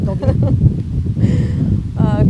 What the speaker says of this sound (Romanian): Că ne ia vântul, ține-te bine, Dobie